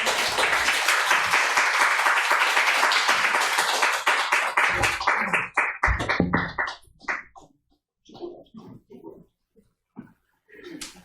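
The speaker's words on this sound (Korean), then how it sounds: "우리 권사님 박수로 환영하겠습니다" A church congregation at a Sunday afternoon service breaks into loud, sustained applause and clapping welcoming a speaker, fading out over several seconds into scattered claps and quiet.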